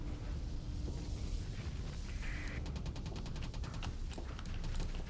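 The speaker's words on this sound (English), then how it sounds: "Fire the missiles." Missiles firing from a spaceship in the space combat game Starsector, a faint, rapid series of launch bursts over a steady low rumble of battle, with no one talking.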